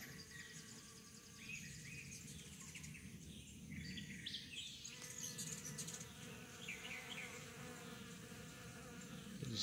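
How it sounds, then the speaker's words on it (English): Steady buzzing of many honey bees on corn close by, a dense continuous drone with faint sparrow chirps over it. "This is bees"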